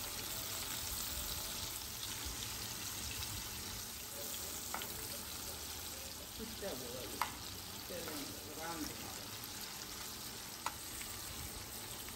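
Shrimp frying in a pan for a home-cooked Bengali shrimp bhuna, a steady close sizzle running throughout with a few soft stirring clinks and brief scrapes.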